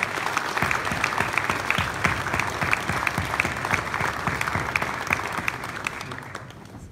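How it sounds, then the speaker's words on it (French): A hall audience at a municipal New Year's ceremony claps to welcome a new municipal police officer, the applause steady and lively with distinct individual claps, then thinning and fading near the end. "Je vous demande de l'applaudir et de lui réserver le meilleur accueil."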